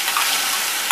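Mango pieces sauté in a hot pan for pickle, giving a steady close sizzle and hiss over a brief moment with no talking.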